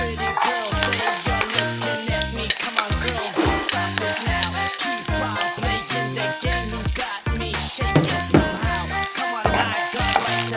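Garlic frying in a pan for squash and shrimp in coconut milk, a constant bright sizzle with rhythmic utensil stirring and scraping, close and loud over a steady beat of background music.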